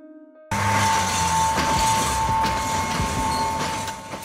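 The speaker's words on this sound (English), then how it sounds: "Railbus, a lightweight, rail-based vehicle designed to operate on railway tracks, but with a design similar to that of a bus." A railbus, a lightweight bus-like vehicle built to run on railway tracks, rolls along after a brief quiet start, giving a loud, steady rumble with a constant tone and scattered rail clicks.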